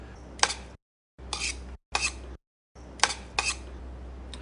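Sesame oil being stirred into a cabbage roll filling: close, fairly loud bursts of scraping and clinking that come in four short spells separated by brief silences, with no talk.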